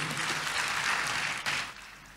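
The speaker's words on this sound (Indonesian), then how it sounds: "Tepuk tangan dulu yang meriah buat Tuhan Yesus." A church congregation claps in a dense, sustained burst of applause that fills the room, then tapers off toward the end.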